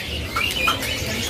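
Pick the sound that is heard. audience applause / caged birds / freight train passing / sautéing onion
caged birds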